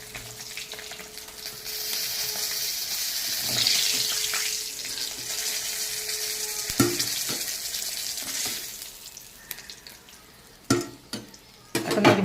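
Fish frying in oil in a pan: a steady, close hiss of sizzling with crackles and occasional sharp clatters of a utensil, thinning out toward the end as the pieces are lifted out, with no speech.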